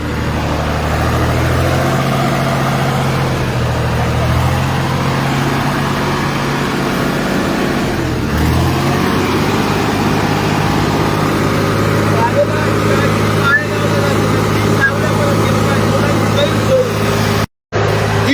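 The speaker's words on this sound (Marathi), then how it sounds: "एस टी चालू केल्यानंतर आवाज किती सुंदर येतो" An old, run-down ST bus's diesel engine runs loudly and revs in rising and falling surges, with someone talking over the steady rumble throughout.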